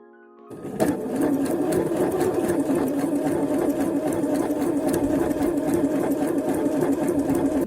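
A sewing machine runs topstitching a decorative seam on a Gucci-inspired genuine leather belt bag, quilted over mesh-backed foam with polyester embroidery thread; a steady close whirring motor starts after a brief quiet moment and continues alone.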